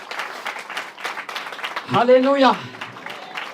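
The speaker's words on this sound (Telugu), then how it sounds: "give big claps to the lord Jesus" A church congregation claps steadily through a Sunday service as a preacher's voice carries over it and rises into a sung exclamation.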